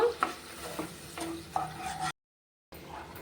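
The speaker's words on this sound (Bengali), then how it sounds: "আর আমি এখানে অল্প করে জল দিয়ে দিলাম জল দিয়ে নাড়াচাড়া করে ক্যারামেল তৈরি করে নেব" Sugar and water stirred in a pan for caramel, with soft scraping strokes and a light bubbling hiss, a couple of sharper clinks, then a brief total silence before the stirring resumes.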